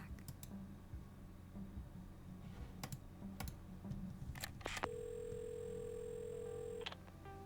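A phone being dialed in the video game Assemble with Care: a few sharp key clicks, then a long steady dial tone, all quiet and with no one talking.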